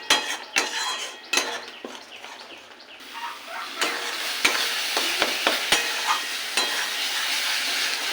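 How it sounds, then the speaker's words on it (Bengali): Ghetkol paste fried and stirred in a wok, with a pinch of sugar added: a steady oily sizzle with sharp, irregular scrapes and clinks of a spatula against the pan, close up and alone. "এটাকে ভালো করে ভেজে নিতে হবে"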